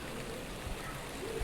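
Steady rain falls during a thunderstorm, heavy rain on a monsoon day, a dense even hiss that runs throughout with no voices or thunder clearly standing out.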